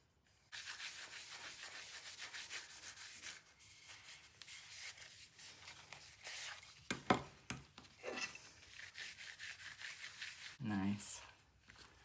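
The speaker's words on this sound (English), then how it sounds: "I'm just sealing it with the beeswax." Beeswax is rubbed over a crackle-finish decoupage piece made with eco resin to seal it, a soft, faint, scratchy rubbing in uneven bursts, with a person talking at times.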